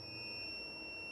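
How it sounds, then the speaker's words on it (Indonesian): A 3,500 W smart inverter's overload protection buzzer sounding when the load passes its limit, a steady high-pitched electronic tone holding constant throughout, faint with a low hum underneath. "dia memproteksi overwatt dan buzzer berbunyi ya"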